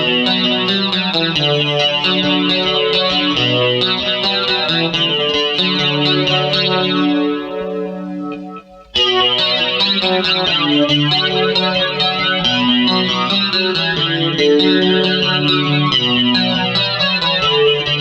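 Bass VI played through a chain of effects pedals for a gothic post-punk tone, with shimmering chorused, slightly distorted notes and a wash of echo. It plays continuously, with one brief drop-out midway.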